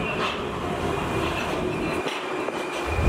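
Prague metro train riding between Malostranská and Můstek stations, a steady underground rumble with faint rail clatter and a thin tonal whine throughout, no talking.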